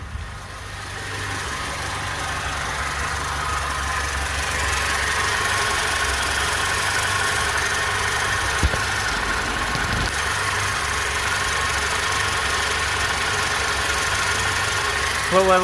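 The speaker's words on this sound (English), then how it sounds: "I can turn up the idle a little bit." A 1988 Toyota Corolla FX 4A-LC engine with a newly fitted carburetor idles steadily, a close, even rumble with a slight knocking texture and a couple of faint clicks partway through.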